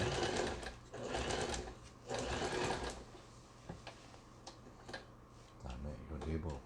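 A Lion PRO Indigo household sewing machine, just repaired, stitches in several short bursts of rapid, rhythmic needle ticking with brief pauses between, fairly quiet and close, while someone talks.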